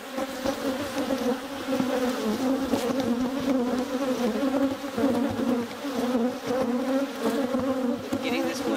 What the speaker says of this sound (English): The bees coming in know that there's bee resources in both